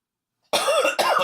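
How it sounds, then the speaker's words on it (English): A single adult cough bursts out of silence, close and fairly loud, in two quick harsh expulsions. "I just coughed."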